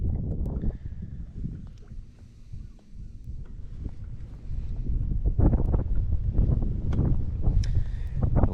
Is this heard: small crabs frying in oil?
no